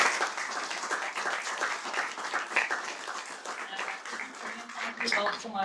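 Audience applause at a panel talk on fake news and deepfakes, steady and fairly close, a dense crowd clapping throughout and swelling toward the end.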